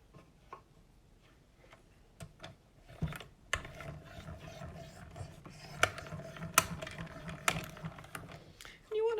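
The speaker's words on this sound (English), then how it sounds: "You want to ensure when you do die cutting like this that you run the plate completely through" Die cutting machine cranked by hand to run a cutting plate through, giving a series of faint clicks and ratcheting ticks over a quiet background with a low hum.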